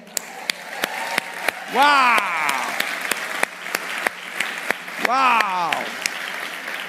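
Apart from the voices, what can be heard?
audience applause at New Year countdown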